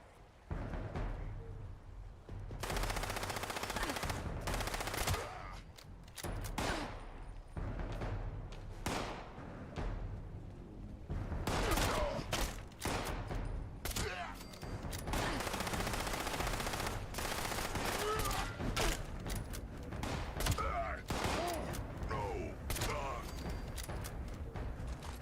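Repeated shotgun blasts in the Fallout video game, sharp bursts of gunfire scattered through the stretch over a steady low background hum, with someone talking at intervals between the shots.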